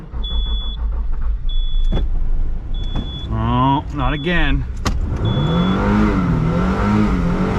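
A 7.3 Powerstroke diesel engine cold-starting at -42F in Detroit: loud, close cranking that catches and revs unevenly, with someone briefly speaking over it.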